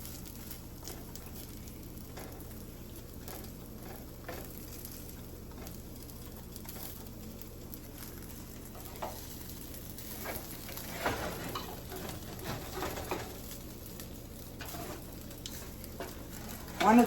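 A sandwich frying in a home skillet gives a steady, soft sizzle throughout, with light scraping and stirring sounds and a few small clicks toward the end, close by and fairly quiet with no talking.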